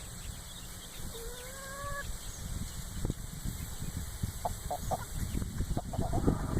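Big hens and young chicks meeting in a backyard coop, with soft clucks and brief chirps over steady outdoor background noise, the sounds moderately near and scattered.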